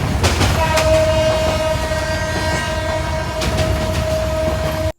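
A passenger train running loudly close by, with a steady rumble, clattering wheels on the rails and a sustained horn tone before the sound cuts off abruptly.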